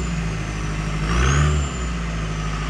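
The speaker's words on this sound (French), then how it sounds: "Je pensais pas qu'un turbo il ferait autant sur un diesel." BMW turbo diesel engine revving, a loud close drone that swells in a brief rev around the middle and then settles back, with a faint high turbo whistle and no talk.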